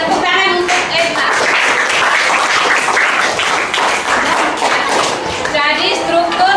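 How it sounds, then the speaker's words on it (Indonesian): A classroom of students applauds a classmate, a steady burst of dense clapping filling the room, with a teacher's voice heard briefly at the start and end. "Tepuk tangan untuk Edra."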